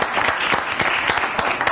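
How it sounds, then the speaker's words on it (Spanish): Loud, dense applause from a television studio audience, steady clapping throughout with a faint crowd murmur underneath. "¡Aplausos para la mamá!"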